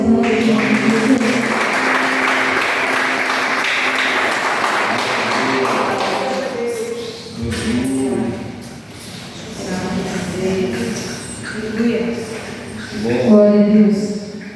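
A church congregation claps and applauds during a worship service, a broad wash of clapping that fades after several seconds, followed by scattered taps and brief talk-like sounds.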